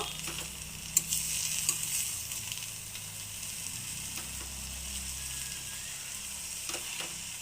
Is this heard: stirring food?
yes